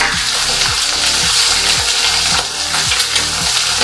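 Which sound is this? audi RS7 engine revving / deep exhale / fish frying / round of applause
fish frying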